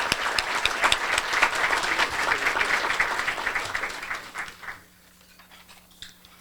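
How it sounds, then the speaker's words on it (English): A luncheon crowd at a 2019 Pasco Chamber of Commerce event claps for past chamber presidents in a lively burst of applause that dies away after about four seconds, leaving quiet room noise. "So let's give them all a round of applause."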